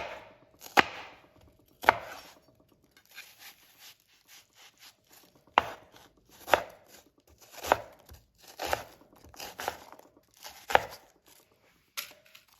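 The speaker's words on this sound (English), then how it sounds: "a lot more efficient way of dicing your onions" A knife dicing an onion on a board: crisp chops arrive in uneven bursts, some single knocks and some quick runs of cuts, close and clear, with no talk.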